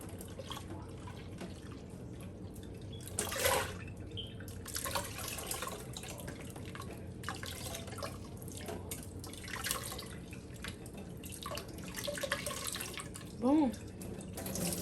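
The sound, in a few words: water running while rinsing out hair dye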